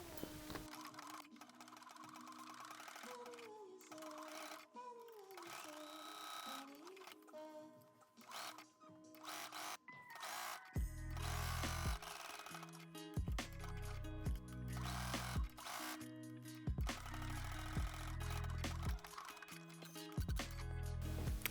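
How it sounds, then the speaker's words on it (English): Sewing a blouse collar, a domestic sewing machine starts up midway and runs in a loud, close, rapid mechanical whirr with short stops, after a quieter stretch of handling fabric and soft background music. "now we can go ahead and sew the collar"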